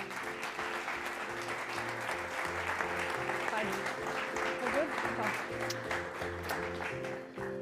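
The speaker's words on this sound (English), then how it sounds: "ladies and gentlemen, a round of applause for the talented, the beautiful, and a skier of the future, Zrinka Lucic!" A live crowd applauds a young skier at a Soelden race-talk event, sustained dense clapping running throughout under steady background music with a low pulsing beat.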